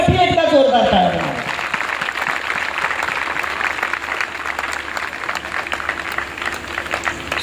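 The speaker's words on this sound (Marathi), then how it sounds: "त्या सगळ्यांसाठी एकदा जोरदार टाळ्या" An audience at a lecture at Nandgiri fort in Nanded breaks into loud, sustained clapping after a voice at the very start, and the dense applause fills the rest of the moment at an even level.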